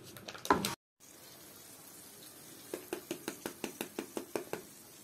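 Crispy oven-baked fried chicken strips crunching, a short burst of noise, then a steady row of about a dozen crisp, evenly spaced crackles up close, no voices.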